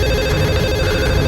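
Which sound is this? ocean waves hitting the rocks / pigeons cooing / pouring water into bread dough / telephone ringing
telephone ringing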